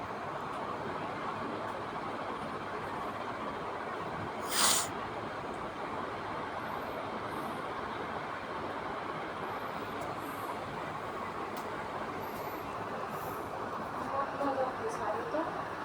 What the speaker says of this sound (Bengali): ট্রেনের ছাদে